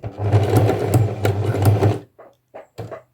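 Sewing machine running for free motion embroidery thread painting, a fast steady run of stitching for about two seconds, then a few short separate bursts of securing stitches, close and clear.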